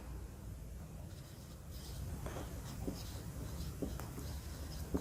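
Marker or chalk scratches across a board in short strokes and taps, faint and close, building up over the last few seconds with a soft room hum underneath.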